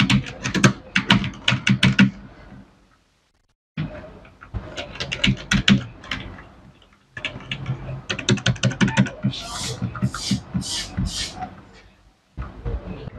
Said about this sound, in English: You'll be giving a review on how this keyboard sounds down below.